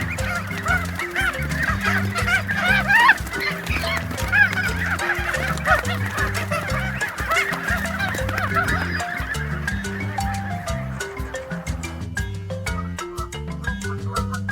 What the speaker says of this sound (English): Geese, geese. G, G, geese,